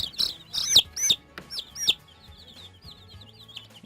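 Young chicks give a burst of sharp, high peeping chirps, several rapid calls close by. Quieter scattered peeps follow over a soft background.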